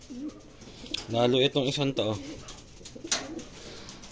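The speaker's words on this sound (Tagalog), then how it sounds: "Yung mga ibon natin," Racing pigeons give a few soft, throaty coos close by, partly overlapped by someone talking.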